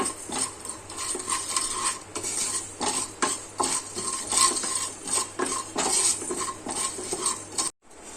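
Whole black peppercorns and salt dry-roasting in a pan, heard as steady scraping and rattling stirs with small clinks against the metal, close and fairly loud. The sound cuts out abruptly near the end.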